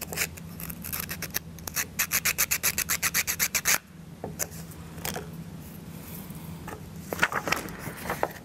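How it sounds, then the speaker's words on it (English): Sandpaper rubbing back and forth on a laser-cut plywood part of an Ugears Hurdy Gurdy model kit: a quick run of about a dozen rhythmic rasping strokes, then scattered lighter scrapes and rubs, close and fairly quiet. "You may need to sand and then wax it."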